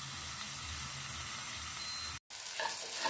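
Bitter gourd frying in a pan until browned gives off a steady, dense sizzle that drops out for a brief moment near the end, then returns with crackling spatter.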